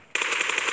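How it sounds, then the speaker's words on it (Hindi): Rapid automatic gunfire from the PUBG video game on the Miramar map, a dense, steady rattle of shots starting abruptly and continuing to the end of the short excerpt. "लेकिन यहाँ पे एस ओ एन का बहुत ही अच्छा कवर फायर और फिनिश ऑफ करते हुए पूरा थर्ड लो के स्क्वाड"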